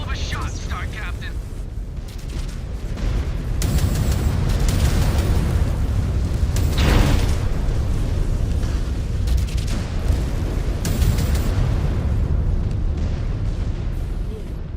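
Heavy explosions as a target is destroyed in the MechWarrior video game, a sustained loud rumble of booms and debris under radio-style voice chatter.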